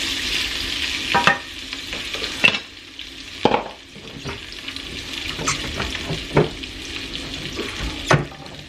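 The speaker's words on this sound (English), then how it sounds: "I'm going to turn the heat down a little bit now that the oil's getting hot" Food fries in hot oil in a pan, a steady sizzle broken by stirring scrapes and a few sharp utensil clinks.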